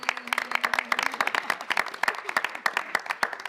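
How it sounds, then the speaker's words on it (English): Applause at a 2015 press conference for the film Selma as the cinematographer is introduced, a steady patter of many clapping hands from a room audience, lively and fairly close throughout. "Round of applause for Mr. Bradford Young, our cinematographer."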